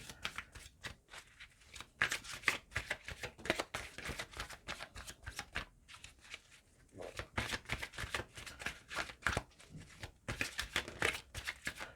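Tarot cards shuffled and drawn for a Virgo love reading: a close, steady run of rapid papery riffles and soft slaps that continues throughout, with no talking.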